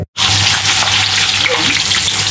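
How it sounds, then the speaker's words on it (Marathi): Green chillies frying in hot oil at a roadside snack hotel, a loud continuous sizzle that starts abruptly and holds steady close up, with faint talk beneath. "मिरची बघा कशी फ्राय होते"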